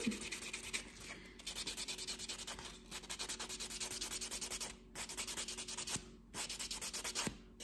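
A nail file rubbing across a fingernail surface to take off the shine, a close, soft rasping in quick back-and-forth strokes with brief pauses between runs.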